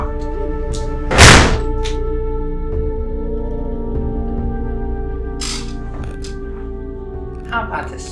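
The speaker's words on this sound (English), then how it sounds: "Now close the door!" A door shuts with a single sharp thud near the start, then a humming drone continues with faint voices and small knocks.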